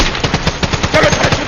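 Rapid automatic gunfire rattles in a fast, steady burst of closely spaced loud shots during an action scene in a Hindi-dubbed sci-fi movie, filling the whole moment without pause.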